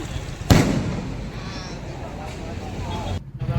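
Firecrackers set off at an election victory celebration held by a BJP youth wing in Khergam, Navsari, one loud crack followed by a steady crackling roar of crowd noise.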